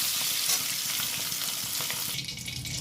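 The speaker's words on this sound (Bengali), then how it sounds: "আমার ডিমগুলো মোটামুটি ভাজা হয়ে গেছে" Eggs fry in a pan of hot oil, a continuous close sizzle with light spattering and occasional soft stirring taps, easing slightly toward the end, with no voices.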